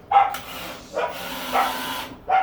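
A dog barks four short, sharp times, spaced roughly half a second apart, moderately close and clear with no talking over it.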